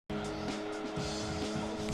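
A Lotus Elan race car in Gran Turismo 2 runs at a steady high-revving engine whine, with tires squealing and skidding through a corner, continuous and fairly loud.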